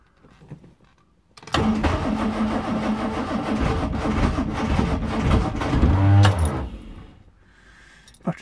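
A car engine on a slightly low battery cranks briefly and catches, then runs loud and close for several seconds before the revving fades away.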